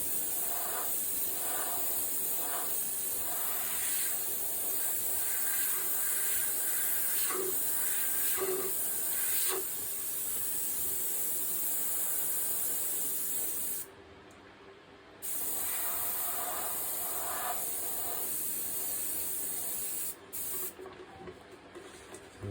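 An airbrush sprays red paint in broad, loose passes for realistic flame artwork, giving a steady close hiss that runs almost unbroken, with a brief stop near the middle and a few short gaps toward the end.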